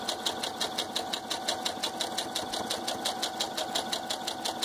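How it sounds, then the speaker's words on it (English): A sewing machine stitches a puff quilt with a fast, even mechanical chatter, steady rhythmic clicks under a constant motor whir. "You can go ahead and sew that again."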